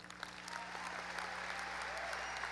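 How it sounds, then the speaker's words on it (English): A graduation audience applauds in a steady, dense wash of clapping that continues evenly throughout, heard from within a large hall with no voices over it. "giving them another round of applause, please"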